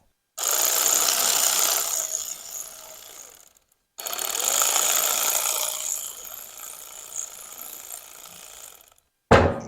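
An impact-style power tool runs down engine bolts on an Evolution big bore kit and cam upgrade, in two sustained close bursts of rapid rattling hammering separated by a pause, with a brief final burst at the end.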